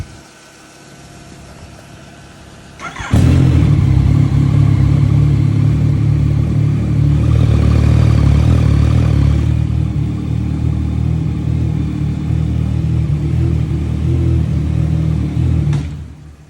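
A Yamaha XSR900/MT-09 motorcycle engine, recently reassembled with a clutch fault, fires up and idles in neutral, a loud steady close-range rumble that runs unbroken for about twelve seconds before cutting off, with no talking.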